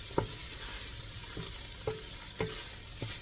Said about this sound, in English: I'm going to go ahead and let that cook a little bit more so they get nice and